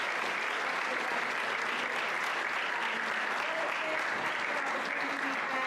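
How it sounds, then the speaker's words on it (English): Sustained, dense applause from an audience at an African American Student Services event honoring the panelists, steady and even throughout with no breaks. "Let's give a round of applause for our panelists."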